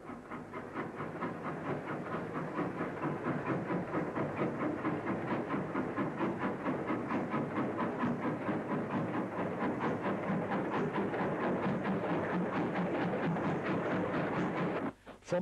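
GWR locomotive 6664 hauls a coal train past, giving a steady rhythmic chuffing and clanking of wagons that stays even and moderately close, with a sharp break right at the end.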